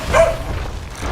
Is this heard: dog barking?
yes